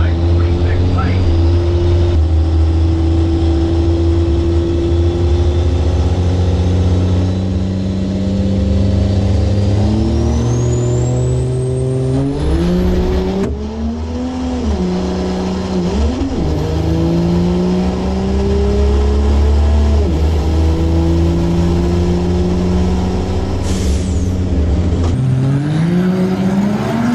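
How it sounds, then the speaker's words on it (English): A 6.7 Cummins diesel drag race truck runs down the strip, engine roaring loud and continuous with rising pitch through gear changes, heard with voices of onlookers nearby. "Oh, you just saw a 10-second diesel truck."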